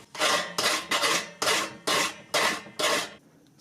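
A cut metal computer case panel being deburred by hand with a file, seven firm rasping strokes in a steady rhythm, close and loud, ending with a brief quiet pause.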